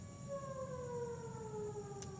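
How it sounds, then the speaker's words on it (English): A curfew siren sounds in the distance, a steady, faint wail slowly falling in pitch and holding on alone over quiet background noise. "The siren sounded na."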